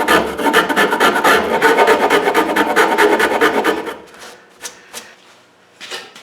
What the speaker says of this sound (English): so now we'll do some filing